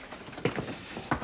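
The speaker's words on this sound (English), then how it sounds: "Mikhail Lvovich, your horses are here." Horses' hooves clip-clop as horses arrive, a few soft, uneven thuds a short distance off, faint and brief against quiet room tone.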